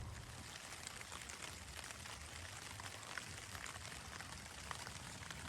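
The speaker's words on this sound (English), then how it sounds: "More rain." Rain falls steadily on a hiking campsite on the Colorado Trail, a soft, even, continuous hiss with occasional faint drop ticks and no voices.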